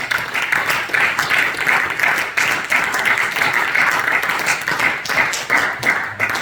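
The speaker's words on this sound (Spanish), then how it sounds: "Un aplauso a nuestro Señor Jesucristo." Applause fills a church service, a congregation clapping steadily and densely for several seconds at a loud, even level, with no talk over it.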